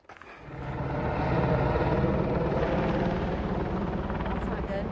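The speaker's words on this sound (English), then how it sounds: "there's a rescue chopper circling" Rescue helicopter circling over a mountain meadow near Whitney base camp on the Pacific Crest Trail, a steady loud rotor drone that swells in and holds throughout.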